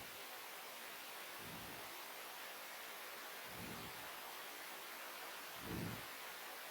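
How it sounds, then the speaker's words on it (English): High-voltage food processing equipment for non-thermal shelf life extension, running above 20 kilovolts, gives off a constant broadband hiss, with three soft low thumps at regular intervals beneath it. "once the voltage goes beyond 20 kilovolt, this hissing sound starts producing"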